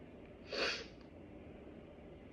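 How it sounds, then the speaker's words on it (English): A single short, sharp sneeze bursts out once, fairly quiet and close, against a low steady background hum. "I'm gonna sneeze."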